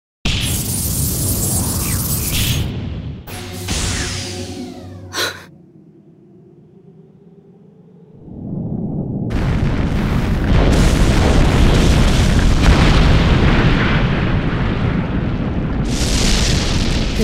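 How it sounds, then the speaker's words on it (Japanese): A heavy explosion from the Code Geass Lost Stories game, groundwater flash-boiled into steam to trigger a massive landslide: a loud booming blast with ringing tones, a sudden drop to near silence, then a long roaring rumble of collapsing earth. "副車波動で地下水脈を一気に水蒸気化。 その爆発力で大規模な山崩れを引き起こす。"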